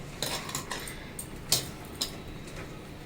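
A spoon clinks and taps against a bowl while batter for crispy bitter gourd fry is stirred by hand, giving soft, irregular ticks and scrapes at close range with no voices.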